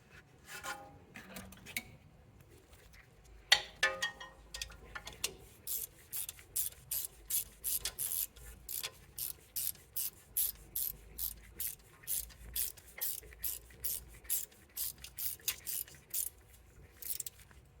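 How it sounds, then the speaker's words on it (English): A ratchet tightens an E10 bolt on the rear ABS speed sensor bracket of a 2016-2022 Mercedes, giving a long run of steady, close clicking strokes after a few quieter knocks and handling sounds. "being able to install our E10 bolt to tighten that into place"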